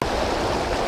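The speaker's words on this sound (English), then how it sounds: "made it to the river" A river flows in a steady, close rush of water during summer fly fishing, continuous and loud for under a second with no voices.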